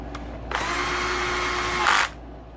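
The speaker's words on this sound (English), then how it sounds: "Go ahead and tighten them down." A power drill runs steadily for about a second and a half, tightening bolts during a full engine rebuild of a KTM 85SX, Husqvarna TC85 or Gas Gas MC85 motocross bike, rising briefly in pitch before stopping.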